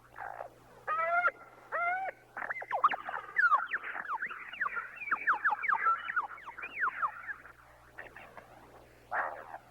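Australian lyrebird in forest performing vocal mimicry, a varied run of clear whistled and swooping calls in short bursts, then a dense tumbling sequence of rapid slurred notes, fairly close over a faint low hum.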